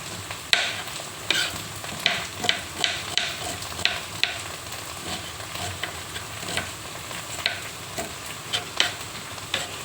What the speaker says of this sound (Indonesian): Setelah kayak gini bawangnya nanti digoreng.